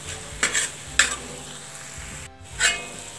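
A spoon stirs tomatoes and spices in a pan for pav bhaji, scraping and clinking in several close strokes over a soft continuous sizzle.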